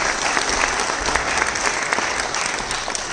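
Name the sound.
audience applause after dance performance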